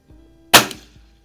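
A single sharp crack from a Ruger Airhawk .177 break barrel air rifle fired outdoors at a range, with a quick decaying ring after the shot and faint handling thumps around it.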